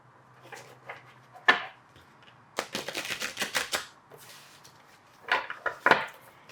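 Tarot or affirmation cards being shuffled by hand, a few soft flicks followed by a quick riffling flurry and a couple of final taps, close and quiet with no talking.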